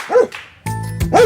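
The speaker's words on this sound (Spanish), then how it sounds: "¿Alguien sabe cómo hace el perrito?" A dog barks twice in quick succession, loud and close, with short yapping barks at the start and end.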